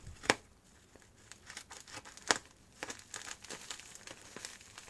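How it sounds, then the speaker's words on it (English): A plastic unboxing package for a Meffert's puzzle being cut open: close crinkling and crumpling with a few sharp snips or tears, quiet and irregular. "let's grab this smallest one here and just cut it open"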